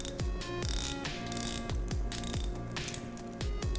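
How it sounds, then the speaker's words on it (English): Invicta Pro Diver 9094 watch bezel being turned, a rapid run of small, tinny ratcheting clicks in quick bursts, close up and fairly quiet. "Let's listen to what it sounds like when you turn the bezel. Kind of has somewhat of a tinny sound."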